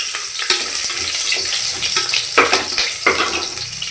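Sliced onions sizzle steadily in a hot pan for egg biryani, a continuous bright crackle with a few louder stirring scrapes and spatters.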